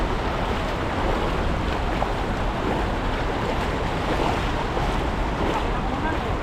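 Strong river current rushing over a waterfall, a dense, steady roar of water that fills the whole clip loudly and evenly, with wind buffeting the microphone.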